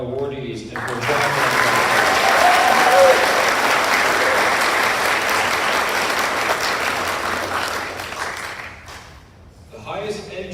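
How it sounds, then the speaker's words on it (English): A large audience applauds awardees at a high school Navy Junior ROTC awards ceremony, a dense, steady burst of clapping lasting nearly ten seconds before tapering off, with brief speech at the start and end. "Let's give a round of applause for all of our awardees and for John."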